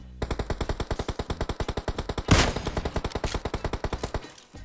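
PUBG Mobile gunfire rattles off as long, fast automatic bursts at a steady rhythm of about four to five shots per second, loud and close, with one heavier blast partway through and no talking.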